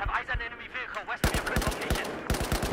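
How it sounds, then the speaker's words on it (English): Rapid machine-gun bursts in the multiplayer shooter Battlefield 4 on PS4, a muffled stretch of fire followed by loud, sharp repeated shots in quick clusters. "they're shooting at somebody"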